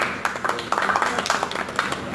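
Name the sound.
audience applause at a mushaira poetry gathering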